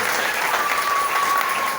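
Church congregation applauding during a French-language Pentecostal service, a steady dense wash of clapping filling the room at full loudness from start to end, with a faint sustained tone running underneath.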